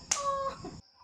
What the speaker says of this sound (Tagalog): May naririnig pa nga akong mga huni kasi dito ako lumaki sa farm